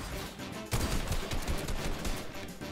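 Gunfire in Fortnite battle royale, a sudden loud burst of rapid shots starting under a second in and continuing in repeated bursts amid game sounds.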